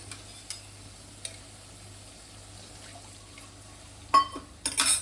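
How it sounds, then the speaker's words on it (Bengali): Water hits a hot, oil-glossed spice paste for a Bhola fish curry in a pan, giving two brief loud sizzling bursts near the end after a long quiet simmer with faint stirring taps. "এবার আমি জল দিয়ে দেবো"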